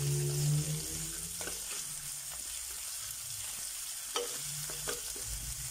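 Onion frying in oil with chili flakes in a pan, a soft steady sizzle with faint stirring scrapes and taps, low and continuous with no talk.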